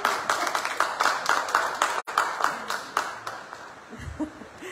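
Audience clapping after a speaker's address at a political and electoral participation forum, steady claps with a brief break near two seconds, then thinning out as a low voice murmurs at the end.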